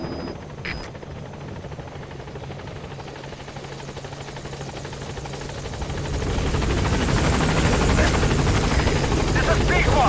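Helicopter arriving at a landing zone in the video game Metal Gear Solid V, with a steady rotor drone that swells louder and closer over the last few seconds, while a radio voice speaks.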